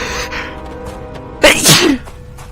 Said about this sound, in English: Gonna sneeze.